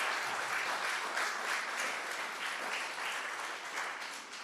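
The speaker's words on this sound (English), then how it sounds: "Please give her a big round of applause." Brief applause at a book launch, many hands clapping together in a steady, moderately distant patter that thins slightly toward the end.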